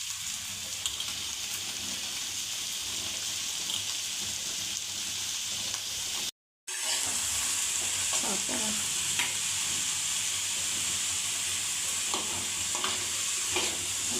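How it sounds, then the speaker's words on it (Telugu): White bitter gourd frying in hot oil in a home kitchen: a steady, even sizzle and hiss throughout, with a brief gap near the middle and faint occasional clinks of stirring, no talk. "సరే, ఇలా కాకరకాయలు వేపుకోవాలి. ఫస్ట్ ఆయిల్లో వేసుకొని. ఇవి తెల్ల కాకరకాయలు,"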